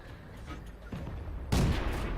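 Tank gun fire in World of Tanks: a muffled shot partway through, then a loud, sharp cannon blast with a booming tail, set against low battle rumble.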